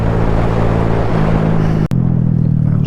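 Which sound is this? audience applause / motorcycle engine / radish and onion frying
motorcycle engine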